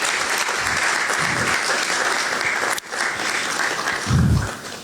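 Sustained audience applause at a talk on taxpayers' reluctance to pay, a dense, steady wash of many hands clapping throughout with no break.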